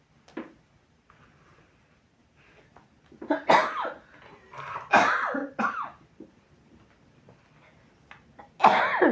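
Several sharp coughs in bursts, fairly close, with quiet pauses between them and a final cough at the end.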